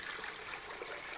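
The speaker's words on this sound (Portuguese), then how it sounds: "Eu coloco 2 copos de água" Water poured into a blender to make a homemade rehydration solution, a brief, soft, steady hissing trickle heard up close and alone.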